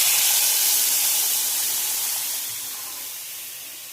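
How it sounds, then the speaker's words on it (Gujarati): Ragda hits a hot tempering of cumin and asafoetida and sizzles in a loud, bright hiss that slowly fades over a few seconds, with no talking. "હિંગ નાખ્યા પછી આપણો જે રગડો રેડી કર્યો છે તે નાખી દઈશું"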